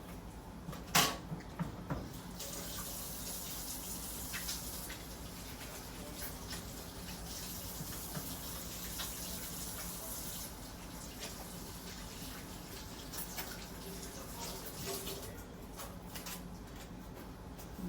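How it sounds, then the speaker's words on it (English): Tap water runs steadily for handwashing in a home kitchen. A couple of sharp knocks come early, then a continuous hiss with light splashes and clatter, and no one speaks. "I will be washing my hands because at this process, it does requires for me to use my hand."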